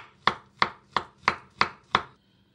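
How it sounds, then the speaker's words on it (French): A knife cuts a banana into rounds on a cutting board, giving six even, crisp knocks about a third of a second apart, close and clear with nothing else heard. "je vais prendre la banane. Je vais la couper juste en rondelles."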